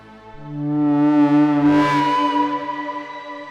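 A sustained tone from the Arturia Pigments 4 software synthesizer swells in with gritty distortion, its harmonics thickening and shimmering in the middle with a cascading LFO, then wavering and fading slightly toward the end.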